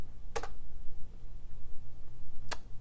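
Keys on a computer keyboard are tapped in two short bursts, one near the start and one near the end, over a steady hum of computer fan noise.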